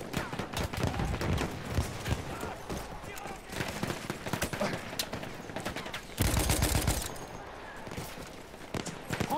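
Rapid automatic fire from a Hout automatic rifle in Battlefield 1 crackles in repeated bursts amid battlefield noise, with a louder close volley near the end and a player talking over the shooting.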